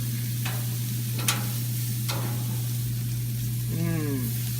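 Steak sears on a grill with a steady, soft sizzle under a constant low hum, broken by a few sharp crackles and pops.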